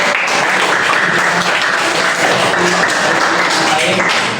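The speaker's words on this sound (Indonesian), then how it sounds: "Tepuk tangan buat kita semua dulu" Classroom applause from a group of students during a lesson, a steady dense clatter of many hands clapping together that fills the room without a break for several seconds.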